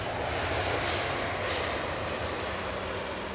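Large freighter aircraft arriving at London Heathrow runway 27R gives a steady, broad engine roar at moderate distance, holding level throughout a short stretch with no voices.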